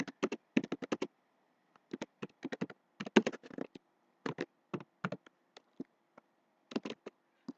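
Computer keyboard typing a Minecraft chat message, heard as quick bursts of crisp, close key clicks with short pauses between words, alone and fairly quiet.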